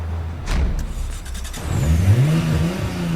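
A car in the game Forza Horizon 3 revs its engine, with a sharp burst followed by a rising, throaty acceleration, loud and close, no talking over it.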